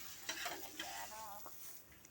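Chicken frying in a pan while being stirred: faint sizzling with soft scraping and stirring strokes, a few brief clinks, quiet and close with no talk.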